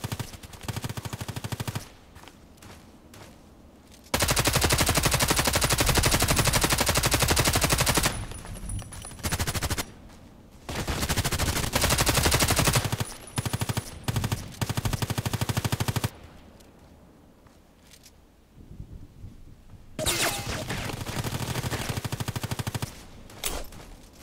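Bursts of HK 243 light machine gun fire in the shooter game Contract Wars, long sustained automatic volleys broken by short pauses and quick stuttering shots, loud and close.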